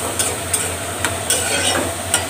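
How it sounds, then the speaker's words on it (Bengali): Dried fish (shutki) frying in a pan with garlic and onion, stirred with a utensil: steady close sizzle with a few sharp scraping clicks spaced through it, no voices. "তো যাই হোক আমি এবার নাড়াচাড়া দিব"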